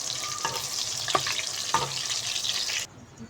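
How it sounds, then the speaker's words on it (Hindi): Eggplant slices fry in hot oil with a steady, dense sizzle, broken by a few sharp crackles and pops, then the sizzle drops away abruptly near the end. "तो बैंगन फ्राई हो चुके हैं,"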